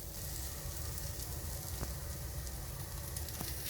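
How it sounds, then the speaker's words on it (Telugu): Small bitter gourds frying with masala in a pan, a dense, even sizzle that holds steady throughout, close and fairly loud, with no talking. "టూ మినిట్స్ ఈ మసాలాతో కలిపిన కాకరకాయలు వేగాలి"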